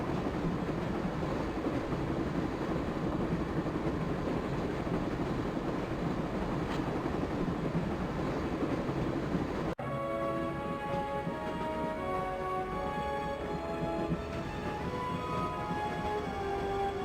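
A train runs in Broken Sword: Shadow of the Templars, with a continuous rumbling, rattling roll that stays loud and steady; partway through, a tonal musical layer joins over the rail noise.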